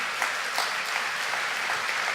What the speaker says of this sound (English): I'm clearly noticing who is clapping and who is not